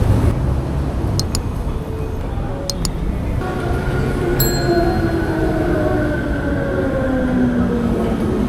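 Metro train at a station in Medellín, Colombia, rumbling loudly with squealing wheels and rising whines as it moves, over busy platform ambience with faint music and people talking.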